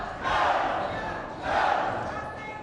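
A pool tournament crowd erupts in two loud surges of cheering and roaring after a great shot, a broad wash of voices swelling, easing, then swelling again.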